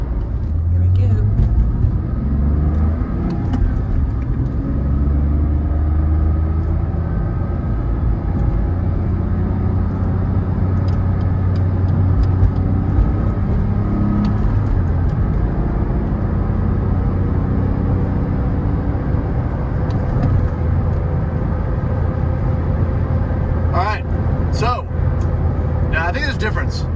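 A 2005 Porsche 997.1 with semi-solid motor mounts pulling hard on the highway, a loud, continuous engine drone with rising and falling pitch under heavy road noise.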